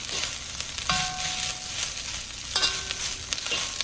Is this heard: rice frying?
yes